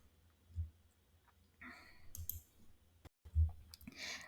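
A computer mouse clicks sharply on GitHub's webhooks settings, a couple of close, distinct clicks against a quiet background with light rustling between them.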